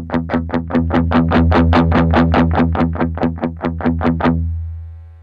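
An electric guitar played through a ToneX One pedal with gain added rings out as a fast run of about twenty evenly picked, distorted notes, loud and close, then the last one decays into silence.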